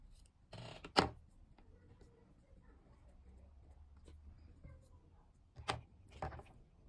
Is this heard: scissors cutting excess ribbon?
yes